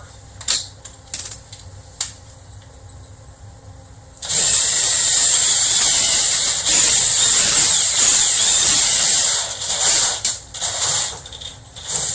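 A power drill bores 3/4 inch holes through a Lexan surface-mount panel, a few short taps and then a loud, continuous high whine lasting several seconds, close and without talking.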